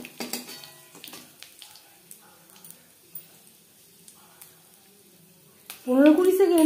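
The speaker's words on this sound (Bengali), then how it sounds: "মাছ ভেজে নেওয়া তেলে দিয়ে দিলাম 5 ফোড়ন" Whole five-spice seeds crackle in a small amount of oil left over from frying boal fish, giving sparse, faint pops and clicks over a quiet background before a voice begins talking near the end.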